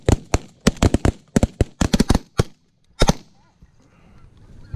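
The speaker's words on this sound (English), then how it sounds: "Shoot him." A semi-automatic 10 gauge shotgun fires at geese in a rapid burst of sharp, loud outdoor blasts in uneven groups, with geese honking faintly in the background after the shooting stops.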